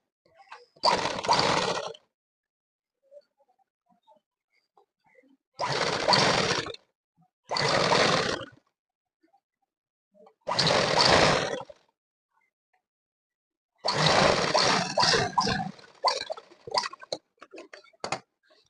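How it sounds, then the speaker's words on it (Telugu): Sewing machine top-stitching a folded hem on a school uniform shirt, five separate bursts of fast whirring stitching, each a second or so long, separated by quiet pauses, the last ending in scattered clicks. "ఇలా మళ్ళీ ఫోల్డ్ చేసి పైనుండి ఒక టాప్ స్టిచ్ అనేది వేసేస్తున్నా"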